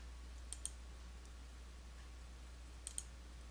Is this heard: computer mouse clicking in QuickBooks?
yes